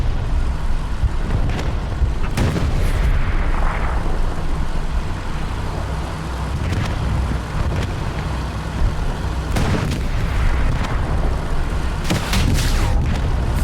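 Rocket explosions striking a Sherman tank in a video game battle: several sharp, loud booms at irregular intervals over a continuous low rumble of engines and battle noise.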